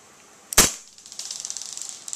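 An airsoft blowback pistol fires a single sharp, loud crack into a chronograph, followed by a rapid series of faint ticking clicks.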